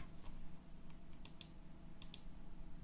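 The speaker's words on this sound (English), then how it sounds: "Continue and type your password." Soft, brief taps of a password being entered on a computer keyboard, with a few scattered keystrokes over a steady faint background hum.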